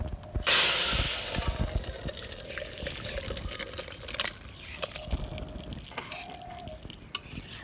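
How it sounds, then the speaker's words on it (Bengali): Cooked chanda fish curry with potato and eggplant is poured out of a pot from a clay stove. A sharp splashing hiss opens the pour, followed by softer dripping, liquid trickles and scattered light knocks. "তরকারি রান্না শেষ হয়ে গেছে এখন ঢেলে দেবো"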